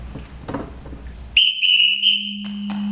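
A shrill whistle is blown on a theatre stage during a school musical production, one sustained blast with short breaks, loud and near, after a stretch of soft background noise.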